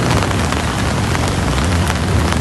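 Heavy rain pours steadily on a mountain hiking trail at Kabaragala, a loud, dense, continuous hiss close by with no talk.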